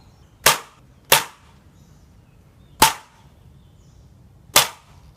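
An F30 electric nail gun fires four sharp, loud cracks in an irregular rhythm, each followed by a quick decay into near silence.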